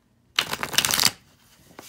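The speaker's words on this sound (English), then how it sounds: "if I can shuffle this deck." A deck of tarot cards is shuffled once, giving a brisk, close riffling flutter that lasts under a second and then drops into quiet.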